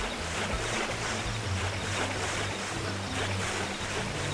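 A waterfall in the video game Xenoblade Chronicles X roars as a dense, continuous rush of water, loud and steady throughout with no pauses.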